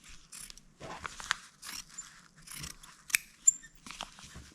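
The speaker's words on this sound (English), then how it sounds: "Now I'm going to cut around here to give a bit of a seam allowance, not too much." Scissors cutting fabric for a Waldorf-style Christmas elf doll, producing close, crisp snips in short irregular bursts against a quiet background.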